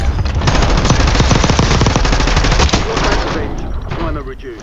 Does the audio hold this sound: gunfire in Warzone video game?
yes